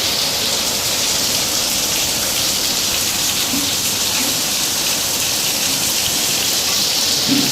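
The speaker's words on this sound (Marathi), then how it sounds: "हे बघा आता एक नंबर पाऊस चालू आहे बाहेर." Heavy rain falls steadily outdoors as a dense, constant hiss with no breaks and no voices.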